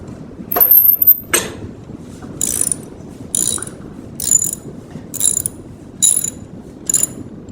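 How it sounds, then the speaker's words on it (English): Ratcheting clicks from a wrench loosening the blade nut on a lawn mower held by a C-clamp, heard as several short, evenly spaced bursts of metallic clicking, close and moderately loud, with no talk. "you'll see when I start to try to loosen the nut that the blade will move"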